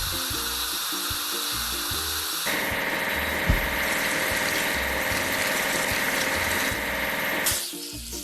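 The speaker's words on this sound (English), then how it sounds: "Let's drill a well hole." A hydraulic drill in a children's construction game drills a well hole, a steady mechanical grinding and whirring that runs on and on. A short pumping rhythm comes first, and a brief thump sounds midway.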